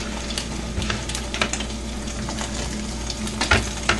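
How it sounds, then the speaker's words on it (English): Tomato sizzles steadily in a hot pan, a constant frying hiss with occasional pops and light scraping from stirring. "This is starting to boil."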